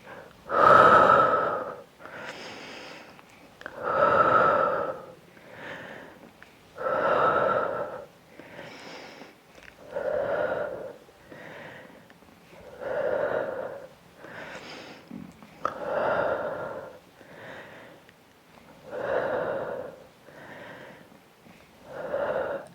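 Steady pilates ab exercise breathing, with loud close breaths taken in and pushed out in a slow regular rhythm of about a dozen cycles, and no talk over them.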